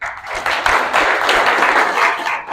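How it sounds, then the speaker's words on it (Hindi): A crowd of people clapping loudly for new soldiers at their welcome after Agniveer training, a dense, steady burst of applause that keeps going without a break. "तो इनके लिए एक बार जोरदार ताली"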